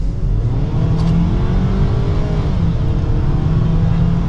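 A 2024 Ford Maverick XLT compact pickup with a turbocharged engine accelerating, heard from the cabin as a loud, steady, low engine drone with a gradually rising pitch and no voices over it.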